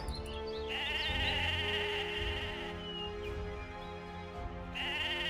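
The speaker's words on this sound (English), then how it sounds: "These sheep like to move." Sheep in the Mabinogi video game bleat in a couple of drawn-out nasal calls, with a quiet game ambience and insect-like buzzing underneath and no talking.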